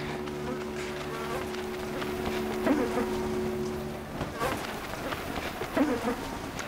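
Mosquitoes whine in the Arctic wilderness, thin buzzing passes swelling and fading near the listener over a low, steady background.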